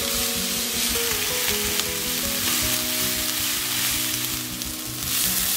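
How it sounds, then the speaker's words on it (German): Bulgur and ground meat filling for cabbage rolls sautéing in a pan, a steady close sizzle with repeated scraping and clacking as it is stirred, no talking. "Das jetzt alles unter ständigem Rühren schön andünsten, dass es so ein bisschen Farbe bekommt."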